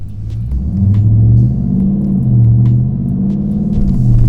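A Dodge Challenger R/T on 275 tires pulls away and accelerates, its engine note rising and falling through a steady, loud low rumble heard from inside the car.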